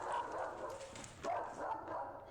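Cheap dog barking sound effect: a short run of muffled, close barks with a whimpering edge, repeating over a couple of seconds at moderate loudness with no talk.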